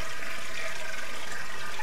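A toilet flushing in the video game Oblivion, played with mods: a steady, loud rush of water that fills the whole moment without pause.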